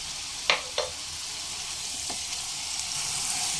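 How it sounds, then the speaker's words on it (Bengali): Onion, ginger and garlic paste fries in a pan with a steady, soft sizzle. A few short scrapes from stirring come early on, and there is no talking. "দুই থেকে তিন মিনিট একটু ভাজা ভাজা হতে দেব পেঁয়াজ আদা রসুন"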